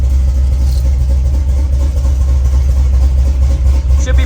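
A Chevrolet S10 street truck runs after a long time without starting, a loud, close, steady low engine rumble at idle with a slight rise and fall in pitch and no voices.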